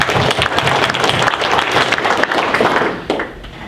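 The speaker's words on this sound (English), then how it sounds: "I just want to give a round of applause to all of our rising stars" A round of applause from an audience at a Vista High School event for rising students, full and close clapping that holds steady before tapering off near the end.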